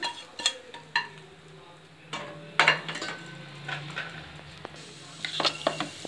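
Kavuni black rice going into a pot and being stirred, heard as scattered clinks, scrapes and knocks of a utensil against metal, close by, with a faint sizzle underneath.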